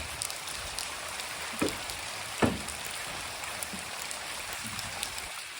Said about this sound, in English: The rain soaked Jane tidying up the tools